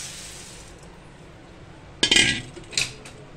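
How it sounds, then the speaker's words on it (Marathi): Puffed rice (chirmure) tipped into a pan of spices for wet bhel, Indian street food, gives a quick rattling clatter in two short bursts, the first louder, close and without talk. "आणि आता हे चिरमुरे टाकणार आहे।"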